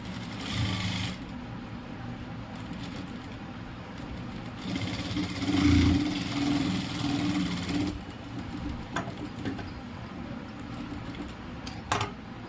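A sewing machine runs loose stitches across cotton cloth in bursts of rapid mechanical whirring, with pauses and small clicks in between, heard close and moderately quiet.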